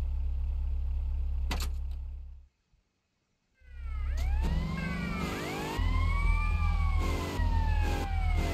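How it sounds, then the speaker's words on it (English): Police car sirens in GTA: Liberty City Stories switch on after a brief silence, sweeping wails layered over a steady low engine rumble, loud and close, with several overlapping rising and falling tones. "Now just to activate the sirens and make sure everything goes smooth."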